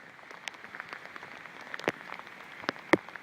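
Heavy rain pouring outdoors in Switzerland, recorded on an iPhone inside a waterproof case: a steady, muffled wash of rainfall with scattered sharper drops and taps striking the case or nearby surfaces.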